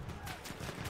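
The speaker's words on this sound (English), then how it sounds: "Mortars." Mortar fire in the war game Battlefield 1 lands as a short burst of dull, rumbling booms, fairly loud and crowded together within a second.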